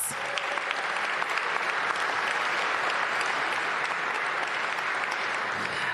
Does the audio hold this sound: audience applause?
yes